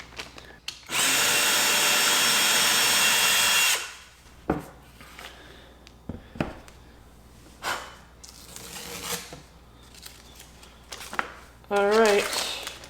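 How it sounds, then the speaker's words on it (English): A power drill bores a hole through a wooden vanity door in a kitchen renovation, with one loud, steady whine of about three seconds, followed by quieter handling clatter, knocks and brief talk. "I'm gonna have to drill a hole"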